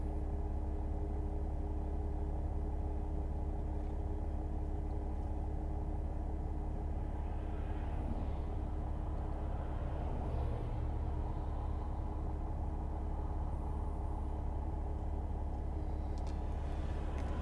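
A 2009 Mercedes E320 Bluetec with a boost problem pulls away in first gear, its engine giving a steady, close low rumble that holds evenly throughout with no clear gear change.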